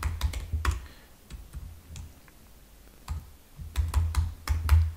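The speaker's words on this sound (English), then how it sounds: "Okay, for us not to forget, we type end." Keystrokes on a computer keyboard while writing T24 multi-value code, scattered clusters of crisp clicks close by, with quiet pauses between bursts.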